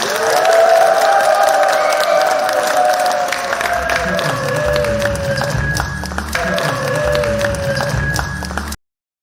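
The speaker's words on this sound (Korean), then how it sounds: "우리 한영의 박수로 모시도록 하겠습니다" A crowd applauds loudly and steadily, the clapping thinning slightly toward the end before cutting off abruptly.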